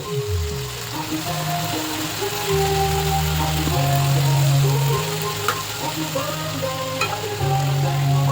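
Steady scraping and stirring in a frying pan of sizzling tuna carbonara sauce, soft continuous bubbling under low background hum, with no talk.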